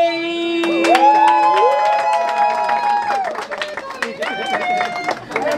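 Audience at a Watford family fun day clapping in quick, scattered bursts, mixed with crowd noise and sustained, wavering tones that sound like singing or music.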